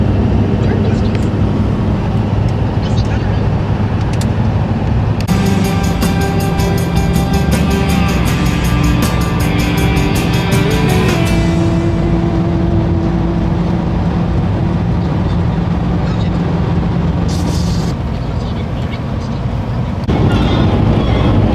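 A car cruising along the Mitchell Highway, a steady loud road and engine roar throughout, with a brighter rattling wind noise rising for a few seconds partway through.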